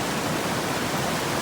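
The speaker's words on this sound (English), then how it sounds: "A lot of water coming out of the ground." Water gushes steadily out of the ground at Donaldson Cave in Indiana, a continuous broadband rush close to the listener with no voices.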